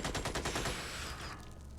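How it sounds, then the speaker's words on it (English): Rapid automatic gunfire volley from a soldier's weapon in the Xenonauts strategy game, a dense burst of shots for over a second that stops abruptly, leaving a ringing tail. "Last volley out of Noah Seal before reload."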